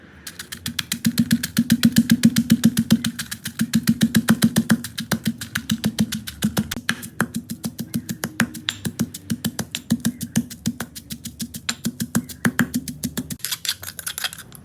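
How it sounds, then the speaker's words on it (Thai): Rapid, steady pounding of a pestle in a mortar, crushing dried chilies, garlic and fresh chilies, close up, with dozens of quick rhythmic thuds continuing without a break and no talking. "มาตำพริกกระเทียมต่อเลยครับ ใส่พริกแห้งตามด้วยกระเทียมครับ"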